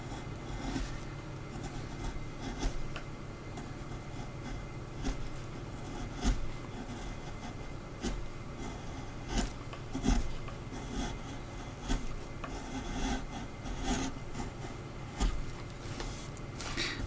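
A round-bottomed chisel is pushed across a carved wooden dragon to smooth it, giving quiet, repeated scraping and rasping strokes with faint clicks, going on steadily throughout.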